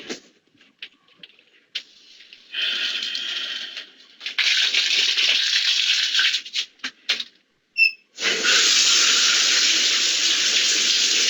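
Shower water running in Hitchcock's shower murder scene, a loud steady hiss that starts after a few soft knocks, breaks off briefly, then returns and carries on strongly.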